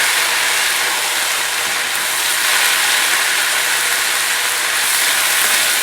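White wine evaporating in a risotto pan, a steady, loud broadband hiss of boiling liquid that holds evenly for several seconds with no talk.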